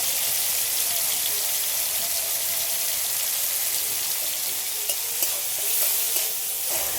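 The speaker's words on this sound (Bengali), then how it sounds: "টমেটোটা ভাজতে ভাজতে পুরো গলে গেছে।" Tomato frying down in mustard oil in a kadai, a continuous close sizzle with soft scraping and stirring sounds and a few light taps of the utensil, no talk.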